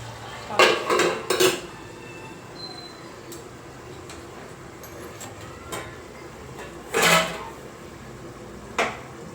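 A spoon stirs fish curry with tamarind and masala in a metal pot, making bursts of scraping clanks and clatters with quieter pauses between them.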